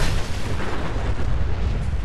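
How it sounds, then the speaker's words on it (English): Fallout 4 mini nuke blast: a dense, roaring wall of explosive rumble that stays loud and sustained across the whole moment, with no voices over it. "not running away from a miniature nuclear explosion"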